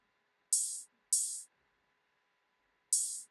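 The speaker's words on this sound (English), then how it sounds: "We have the open hat. And it sound like this." Three crisp open hi-hat hits from a drum sample in Logic Pro X, each a bright, sizzling splash that cuts off shortly after, with two close together and one after a pause.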